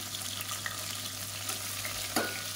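Long-sliced big onions, about 100 grams, fry with spices for brinji rice, a soft, even sizzle with light stirring and one brief scrape near the end, heard close and alone.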